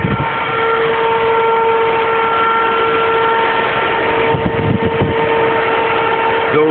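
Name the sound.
electric cooling fans running on a Buick 455 Regal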